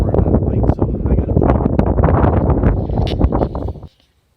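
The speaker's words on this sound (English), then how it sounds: "It's a little windy." Strong wind buffets the microphone atop a mountain fire tower in Balsam Lake Mountain Wild Forest, a loud close rumble with gusty bursts that cuts off abruptly near the end.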